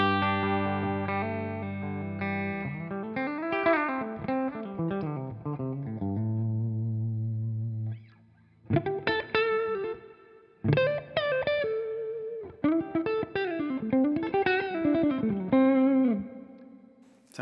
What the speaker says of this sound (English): There's our reverb.